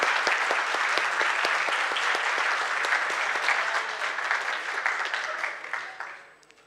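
A conference audience in a university hall claps in a dense, sustained round of applause with crisp individual claps, gradually thinning and fading out.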